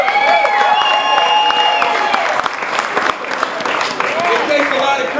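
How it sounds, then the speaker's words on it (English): Sustained applause and cheering from a crowd at a viewing party, loud steady clapping with whoops and voices mixed in throughout. "I just want to give a round of applause again."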